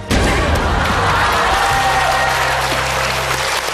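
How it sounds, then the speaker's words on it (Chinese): An audience at a televised dance competition applauds loudly and continuously, a dense, close wash of clapping that fills the hall with only slight easing toward the end. "再次掌声"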